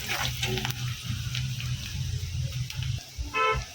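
Flattened rice pulao ingredients with carrot fry in a pan before potatoes go in. The sizzle is soft and close, with a few sharp utensil clinks near the end and no speech.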